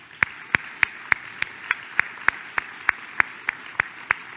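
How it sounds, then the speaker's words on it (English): At a scientific society's award session, a sparse audience applauds award winners, led by one close, crisp clapper striking at a steady, even rhythm over a faint background of scattered clapping. "so let's give them a round of applause."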